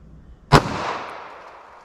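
A single sharp gunshot from a Federal HST .38 Special +P round fired through a 2-inch barrel, a loud close crack followed by a decaying echo tail.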